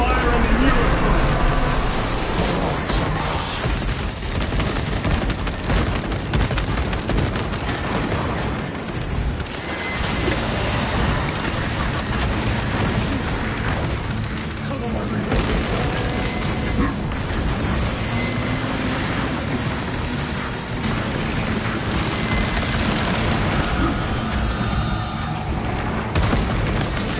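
Sustained heavy gunfire and booming blasts in a Warhammer 40,000 Space Marine 2 battle, focused on a Neurothrope at hardest difficulty, roaring loud and continuous with dense explosions and chatter throughout.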